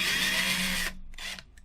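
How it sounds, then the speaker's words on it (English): A power drill whirs loud and close for just under a second, then cuts off, followed by two short, quieter bursts as the trigger is squeezed again. "I'm hoping that thing isn't super loud because the drill's sitting like right next to the mic."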